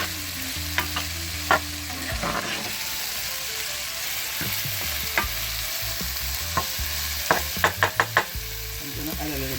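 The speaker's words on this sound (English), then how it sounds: "I'm going to add my Scotch bonnet pepper." Jamaican-style Jack Mackerel seasoning with Scotch bonnet pepper sizzles steadily in a pan while a spoon stirs it, scraping and clicking at irregular moments, close and fairly loud.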